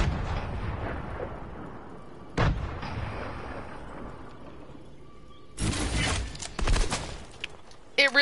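Gunfire in a video game: a single sharp shot, then a louder dense burst of several crackling shots with a shattering edge, amid low game ambience and a few final pops.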